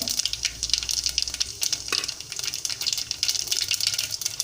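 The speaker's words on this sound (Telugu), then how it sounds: "ఆయిల్ వేడెక్కుతూ ఉంది. చూడండి, ఇప్పుడు నేను జీలకర్ర, ఆవాలు వేస్తున్నాను." Cumin and mustard seeds crackle and sizzle in about six tablespoons of hot oil while upma is made, a dense, steady frying hiss with scattered pops throughout.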